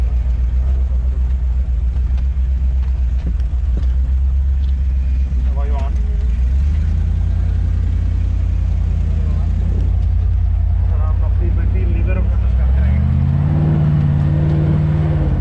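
A Jeep grinds along a flood-damaged river track beside the Orange River in two-wheel drive, its engine a steady low rumble that swells and strains toward the end, with a person talking over it.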